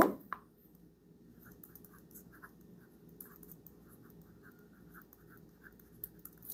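Pencil writing numbers and words on paper, faint soft scratching strokes in short irregular bursts, heard close with quiet room background.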